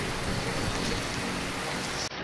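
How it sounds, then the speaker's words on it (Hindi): Steady rain falls in a cold, wet setting, a constant even hiss with no breaks, fairly quiet and alone without speech. "बारिश हो रही है"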